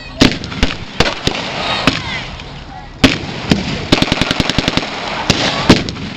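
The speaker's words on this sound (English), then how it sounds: "That's the Vickers, ladies and gentlemen, sweeping the area." A Vickers machine gun fires in bursts during a battle reenactment at a V.E. Day show at the Royal Gunpowder Mills. Loud, sharp reports come in irregular groups, with a rapid string of shots near the end, over a noisy outdoor background.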